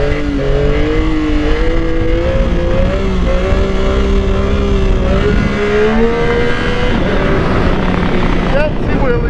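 A 2025 Yamaha R9 and a 2005 Yamaha R6 sport bike rev hard as they accelerate, their engine notes climbing and shifting in pitch together, loud and close, with people talking over them.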